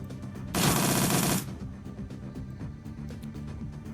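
Automatic gunfire in the Shadowrun: Dragonfall video game comes as one loud, dense burst of about a second, followed by scattered lighter shots and clatter over a steady game background.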